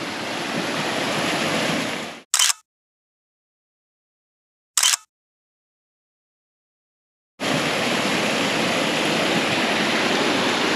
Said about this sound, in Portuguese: olha que coisa linda, tem uma cachoeirinha